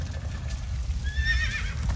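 A horse in the video game Minecraft Story Mode gives one clear whinny about halfway through, over a steady low rumble of hooves and background game sound.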